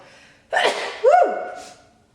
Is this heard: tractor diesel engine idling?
no